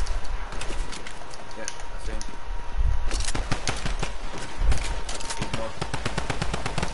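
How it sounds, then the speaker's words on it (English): Rapid gunfire in the video game Fortnite, with dense bursts of shots that are loud and close and keep going steadily throughout, with a few heavier thumps among them. "Somebody shooting at me."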